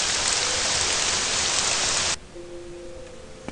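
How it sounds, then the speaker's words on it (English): Steady rain hisses loudly in the video game Morrowind with the Tamriel Rebuilt mod, then cuts off abruptly to a quieter background with a faint hum. "The raining in this game is quite annoying"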